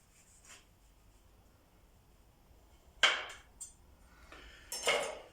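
A knife cuts through a lemon in two crisp bursts, the blade clicking against a board, with quiet room tone between.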